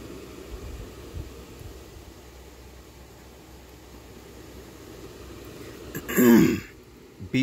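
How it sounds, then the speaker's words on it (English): A man clearing his throat once while down with a cold, a brief rough burst near the end after a stretch of quiet room hiss and a few low knocks. "if you hear me clear my throat, that's probably the reason"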